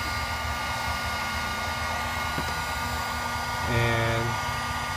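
A hot air blower runs steadily while heating a cam sensor in a car repair setting, with a constant whirring roar throughout and a slight swell in intensity near the end; no one talks over it.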